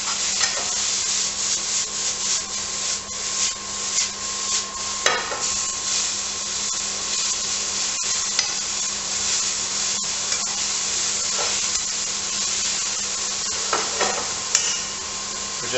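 Garlic frying in a pan for pumpkin soup gives a steady, close sizzle for the whole stretch, with scattered scraping and stirring clicks from the utensil and no talking.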